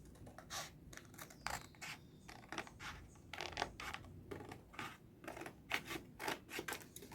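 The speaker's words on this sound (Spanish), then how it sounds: "esa la cortamos con una tijera común y corriente, que es esta" Ordinary household scissors snip through a paper stained-glass pattern, a rapid string of crisp, close cuts and rustles in an uneven rhythm, heard alone without talk.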